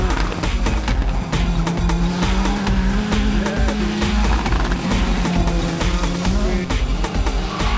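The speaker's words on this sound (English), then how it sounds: "first competitive run in the Ford Escort Cosworth WRC, he seemed quite at home with it, especially on the gravel surface" A Ford Escort Cosworth WRC rally car drives hard on gravel at a speed event, engine roaring loud and continuous with shifting revs, crunching and spraying stones throughout.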